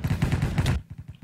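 Rapid bursts of M4 gunfire in the Minecraft Hypixel Cops and Crimes game, a loud close volley of quick repeated shots that cuts off abruptly, followed by a few fainter, lower pops.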